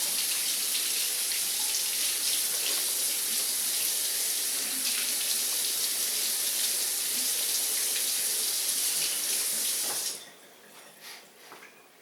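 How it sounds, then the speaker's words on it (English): Tap water runs steadily into a kitchen sink while a knife is rinsed, a close, even hiss that stops abruptly near the end, leaving faint drips and clatter. "So let me rinse my knife."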